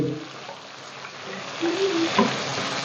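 Chopped tomatoes, about one and a half, sizzle and fry in a pan for tinda masala, a steady soft hiss close by with small bubbling pops toward the end and no talk.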